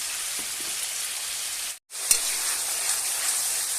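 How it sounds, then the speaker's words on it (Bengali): Mung dal tipped into hot fried spice paste, a steady bright sizzle and frying hiss that breaks off briefly, then resumes with a small clatter as the lentils land. "এবার আমি দিয়ে দেবো এখানে মুগের ডাল।"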